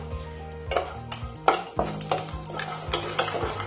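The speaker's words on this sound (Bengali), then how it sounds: "তেলের মধ্যে বড়িগুলো দিয়ে নাড়াচাড়া করে ভেজে" Bengali lentil dumplings (bori) frying in mustard oil in a kadai, a soft sizzle under repeated clattering strokes of a spatula stirring against the pan, close and uneven in rhythm, no talking.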